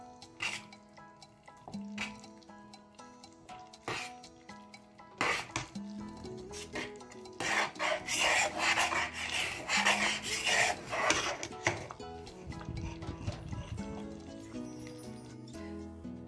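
A spoon stirs thick apricot jam in a cooking pot, with repeated scraping strokes and knocks against the metal. These build into a busy rasping passage before easing back to sparse clinks.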